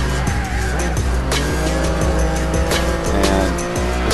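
Racing video game car braking hard into every turn, its engine droning continuously with shifting pitch while the tires squeal and skid through the corners, loud and close throughout.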